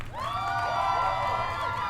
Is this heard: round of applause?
yes